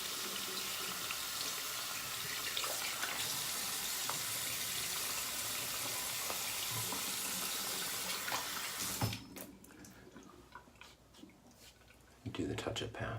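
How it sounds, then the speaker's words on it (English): A bathroom tap runs steadily into a sink, a loud continuous splash that stops abruptly, followed by quieter handling sounds before the water gushes again, with someone talking under it. "we're going to try to just add a little bit of water to this"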